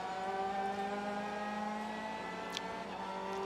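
Race cars, among them a Honda Civic and an Alfa Romeo, roar around the Daytona road course in a Michelin Pilot Challenge race. The engines drone steadily and loudly throughout, with a brief higher whine near the end.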